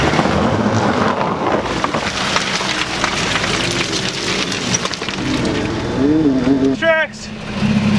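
A Jeep drives through mud on Max Innovations Escaper Buddy traction boards, giving a steady, loud engine and splashing roar throughout with a rougher surge near the end; a voice talks briefly under it.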